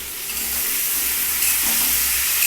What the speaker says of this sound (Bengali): কিন্তু আমি কী করছি তেলের মধ্যে সব ভেজে নিচ্ছি।